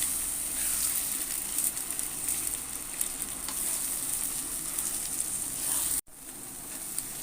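Beaten eggs for egg kothu poori frying in a hot pan, a steady, close hiss of sizzling with faint stirring scrapes, cutting out abruptly near the end before the sizzle resumes more quietly.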